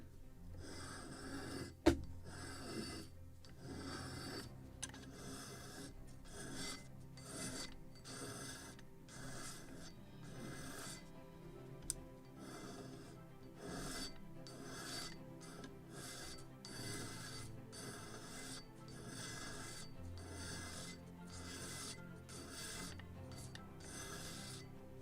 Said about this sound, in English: Now I will sand the entire wheel.